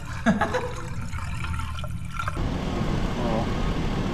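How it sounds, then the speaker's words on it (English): Water pours and splashes over the engine of a Tahoe fitted with a Yukon front clip, a continuous rushing gush that grows fuller midway, with idling-motor rumble underneath. "it's just you pouring water on it"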